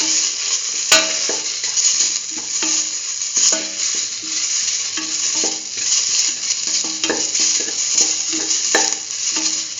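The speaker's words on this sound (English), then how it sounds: "Mix the mustard paste with the rest of the mixture." Mustard paste is stirred into a lentil and rice mixture in a pan, with steady scraping strokes and soft sizzling alongside repeated clinks of the utensil against the pan.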